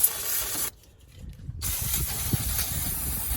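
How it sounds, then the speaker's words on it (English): Brake cleaner hisses from an aerosol can in short bursts onto greasy engine parts of a Honda, a close, steady spray with a brief pause between bursts. "I like to use a little brake cleaner to clear things up"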